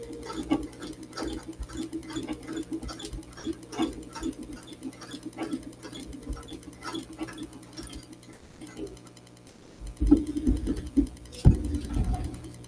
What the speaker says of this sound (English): we just have to sew all these cross hatches.